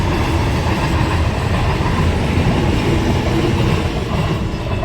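A train runs along the rails, a loud steady rumble with rhythmic clatter of wheels heard from onboard or close by, continuous throughout with no talk.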